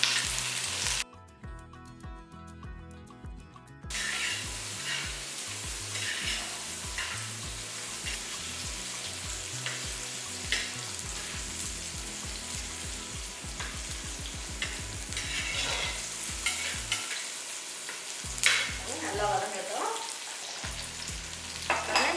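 Whole tomatoes sautéing with onions in a pan for sardine curry, a loud continuous sizzle and crackle with stirring scrapes, a brief quiet gap early on and a few dips later, no talking.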